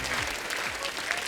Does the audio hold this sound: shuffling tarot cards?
no